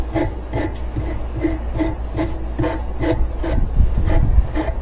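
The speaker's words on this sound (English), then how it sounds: "See if we can clean that nut off a little bit." Rust being scrubbed off the tub nut of a GE washer, a loud, close rhythmic rasping stroke repeating about three times per second over a low hum, with no voices.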